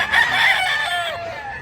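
A rooster crows once, close and loud, at a chicken market in Mantalungon, Cebu, a single drawn-out call that tails off at the end.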